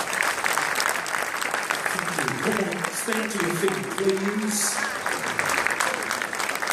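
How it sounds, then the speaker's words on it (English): An audience applauds the mayor at a public event, with clapping running throughout and a voice speaking over it in the middle. "Give her a round of applause"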